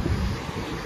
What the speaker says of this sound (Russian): Ветер поднялся прохладный